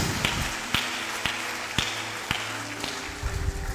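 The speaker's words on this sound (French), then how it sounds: "Applaudis pour Jésus." A church audience claps during a bilingual sermon, the sound thin and scattered, with distinct sharp claps at irregular intervals over a low background hum and steady noise.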